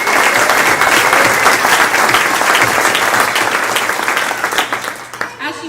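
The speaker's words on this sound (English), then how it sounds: "I just want to give her a round of applause" Sustained applause from an audience at a community awards ceremony, dense and loud for about five seconds before thinning out near the end.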